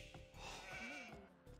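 Sheep bleating in the Age of Empires II real-time strategy game, one drawn-out wavering bleat heard alone at low volume with a softer second call trailing at the end.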